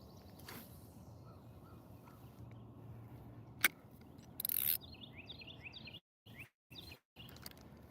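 A bird calls out with a short, harsh burst beside a backyard pond, followed by fainter chirps over quiet outdoor background noise.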